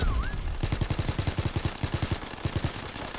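Rapid automatic gunfire rattles in a steady, evenly spaced stream of sharp cracks, aimed at a tank in a World War II shooter game, loud and continuous with no talking.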